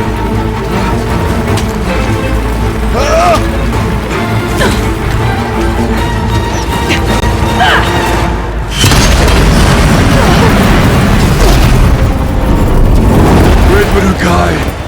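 Explosions from explosive ammo in the video game Horizon Zero Dawn, loud, dense booming blasts and rumbling crashes filling the scene, growing heavier partway through, with game voices mixed in.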